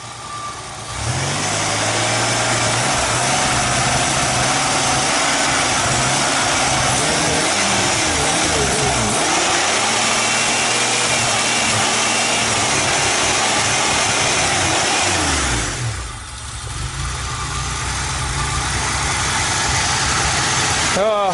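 A car engine idles roughly, its revs rising and falling, then briefly dropping out near the end before picking back up.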